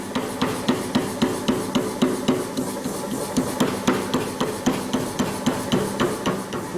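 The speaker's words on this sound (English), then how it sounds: "Now I'm going to heat it again and neck this down." A blacksmith hammers hot iron to neck it down, striking sharp, loud ringing blows in a steady, even rhythm of roughly two per second, close by and with no talking.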